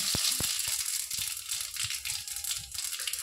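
Dried red chillies, nigella seeds and radhuni hit hot oil in a pan for tempering, sizzling and crackling with a hissing spray and a few sharp pops near the start.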